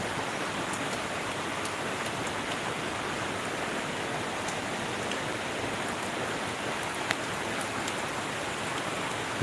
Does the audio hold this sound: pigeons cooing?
no